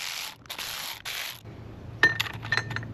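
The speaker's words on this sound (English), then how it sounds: "So to replace these coils, this is a 3/8" A 3/8 socket handled while replacing ignition coils on a 1974 Thunderbird T190 boat, a few light metallic clinks and rubbing scrapes close by, with short bright taps near the end.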